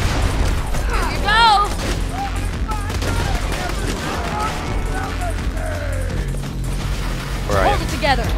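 Enemy gunfire in Borderlands 2 combat, with rapid bursts and scattered shots crackling amid explosions and chaotic battle noise, while voices shout under the shooting.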